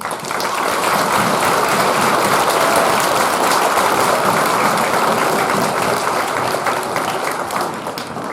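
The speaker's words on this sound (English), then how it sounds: "giving them a big round of applause" Sustained applause from a school assembly audience honoring American military veterans at a Veterans Day event, steady and loud with dense clapping from start to finish.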